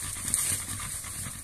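A dog pants steadily and close, quick rhythmic breaths repeating through the moment with no voices over them.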